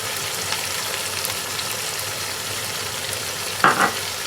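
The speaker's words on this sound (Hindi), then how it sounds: "इसको अच्छी तरह मिक्स कर लें।" Minced meat and spices sizzle and get stirred in a frying pan, a loud, steady crackle with a few soft scrapes and a sharper clank of the spoon near the end.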